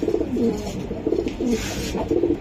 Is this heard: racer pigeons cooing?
yes